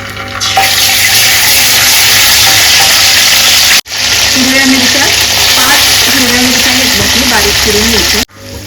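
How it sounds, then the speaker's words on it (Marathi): Ginger-garlic paste hits hot oil with cumin seeds for chole, producing a loud, continuous close-up sizzle that briefly cuts out twice, with faint tonal hums beneath and no talk. "आता आपण ह्याच्यामध्ये आलं लसूण पेस्ट घालून घेऊया"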